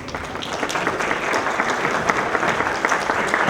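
An audience at a formal panel event applauds as officials leave for an official photo, producing a thick, continuous wash of many hands clapping at fairly close range with no speech.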